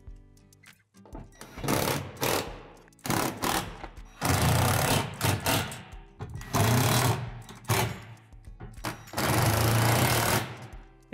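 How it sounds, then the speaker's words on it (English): Screws being driven through holes to secure a plastic roof panel on a Lifetime 8' x 7.5' outdoor shed, repeated loud bursts of a power driver whirring, each lasting one to two seconds with short gaps between. "Finish securing the roof panel through the five remaining holes."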